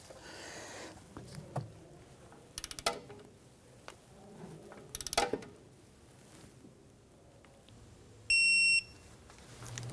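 A torque wrench gives one short, bright electronic beep near the end while an upper bolt on the rear upper control arm of a 2011-2021 Jeep Grand Cherokee is torqued to 81 foot-pounds, after faint clicks and clatter.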